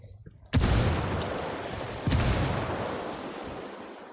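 Frag grenade explosions in the video game Ghost Recon Wildlands, two sharp booming blasts about a second and a half apart, each trailing into a long rumbling decay.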